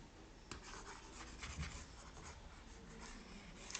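Marker or chalk writing on a board during a chemistry lesson, a steady run of soft scratchy strokes close by, with no talking over it.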